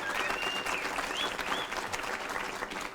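Audience at a Chamber of Commerce award event applauds in a steady, moderately distant round of clapping by many hands, with a faint whistle rising above it.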